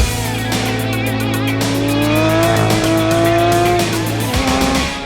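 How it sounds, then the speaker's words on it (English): A 2019 Porsche 911 Speedster launches under launch control, its engine screaming up through the revs with a brief tire chirp, loud and close, rising pitch cut by a quick shift near the end. "2019 Porsche 911. Speedster with launch control."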